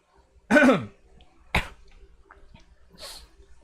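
A few separate coughs close to the microphone, one loud and rough, then a sharper one and a softer one, with quiet pauses between.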